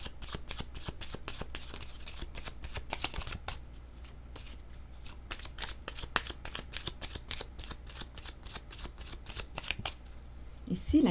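Tarot cards riffled and shuffled by hand in a rapid run of crisp flicks that fill most of the stretch, close and fairly soft, with a brief pause partway through.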